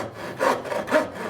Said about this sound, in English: whether you're doing it with a machine or just doing it with a handsaw